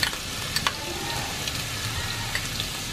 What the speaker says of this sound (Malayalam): വെളിച്ചെണ്ണ നന്നായിട്ട് ചൂടായി വരുമ്പോൾ ഇഞ്ചിയും വെളുത്തുള്ളിയും ചതച്ചത് 1 ടേബിൾ സ്പൂൺ വെളിച്ചെണ്ണയിലേക്ക് ഇട്ട് കൊടുക്കുന്നു